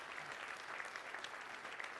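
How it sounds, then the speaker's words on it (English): Audience applause at a day-two conference keynote, a steady, fairly faint wash of many hands clapping that lasts the whole stretch with no voices over it. "OG leaders, give a round of applause."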